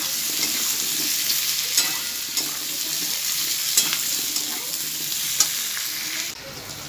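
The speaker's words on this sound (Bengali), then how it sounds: "পেঁয়াজ আলুটা ভালো করে ভেজে নেব।" Onion and potato fry in a pan with a steady sizzle, stirred throughout with scattered light scraping clicks and taps.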